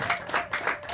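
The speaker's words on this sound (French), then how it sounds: "Est-ce que tu peux encore applaudir pour toi-même?" Clapping from a church congregation comes in three or four quick rhythmic bursts, close and moderately loud, with a faint vocal murmur beneath.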